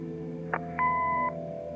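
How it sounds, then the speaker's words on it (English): A short electronic answering machine beep from the video game Kathy Rain, a brief click followed by a clean sustained tone of about half a second, quiet and alone. "Leave a message after the beep."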